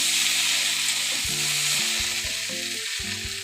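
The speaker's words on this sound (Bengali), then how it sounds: "দেখুন বন্ধুরা, সবজিটা প্রায় ভাজা ভাজা হয়ে গেছে।" Mixed vegetables fry in a pan with a loud, steady sizzle that runs unbroken from start to finish, with no talking.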